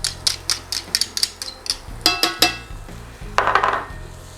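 Garlic is added to a pan on medium heat and stirred for garlic shrimp, heard as a series of sharp, close utensil clinks and scrapes in an irregular rhythm, ending in a short burst of sizzle.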